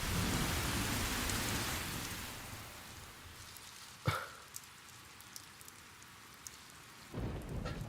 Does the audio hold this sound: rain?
yes